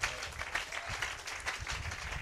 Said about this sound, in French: Donnez-moi une acclamation au Seigneur.